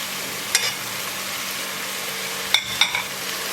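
Softened onions sauté with Creole seasonings for jambalaya, giving a quiet, steady sizzle broken by a few sharp clinks of a utensil as the pan is stirred; no one speaks.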